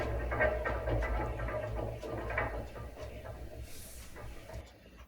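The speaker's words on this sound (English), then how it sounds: "now it should just be the sound of the mechanism shutting down" The mechanism of a scale model coaling tower shuts down with a steady mechanical rumble and faint clattering that slowly fades and thins out toward the end, with no talking.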